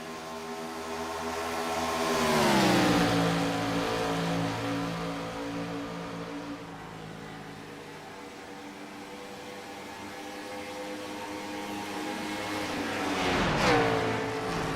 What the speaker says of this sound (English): letting that race car coast through the corners